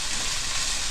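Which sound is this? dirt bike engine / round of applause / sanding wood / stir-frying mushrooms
stir-frying mushrooms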